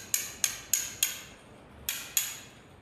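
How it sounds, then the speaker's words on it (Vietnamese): A Japanese-made Tone hammer strikes a Tone chisel in six sharp, ringing metallic blows: four evenly spaced, a short pause, then two more, each quickly decaying in a quiet room. "Thì cái cây đục này mình sẽ gõ đây."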